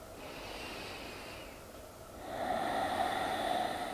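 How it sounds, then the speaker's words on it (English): Slow, steady breaths during a gentle yoga session with the chest opened and shoulders back, a softer airy exhale giving way to a louder, fuller breath in the second half, close and alone. "And breathe here."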